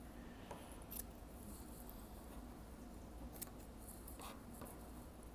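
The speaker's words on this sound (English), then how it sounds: "Good sharp scissors will be great help here." Quiet, intermittent snips of sharp scissors cutting macrame cord, a few crisp clicks spaced out over a soft background hush.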